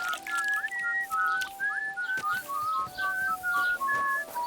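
A character whistles a meandering melody of short, bright phrases with brief pauses in Kingdom Come Deliverance 2, heard alone and fairly clear at moderate volume.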